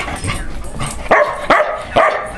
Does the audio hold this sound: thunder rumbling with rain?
no